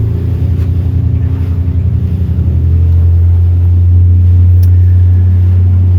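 A motorboat engine rumbles loudly and steadily, its low drone rising slightly in pitch as it revs up toward about 5,000 RPM over the whole stretch.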